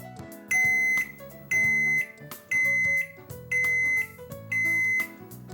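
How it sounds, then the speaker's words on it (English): A Zojirushi Home Bakery Supreme BB-CEC20 bread machine beeps as baking finishes, five loud tone bursts at an even pace, each a bright electronic chirp with short gaps between. "the home bakery beeps to let you know that your bread is finished baking"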